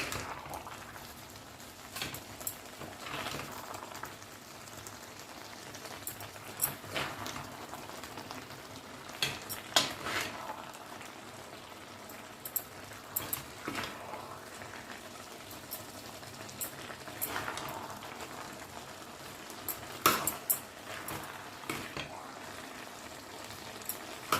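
Carrot halwa is worked in a kadhai with a spoon, producing soft, recurring scraping strokes over a faint low simmering bubble, quiet and close with no talking.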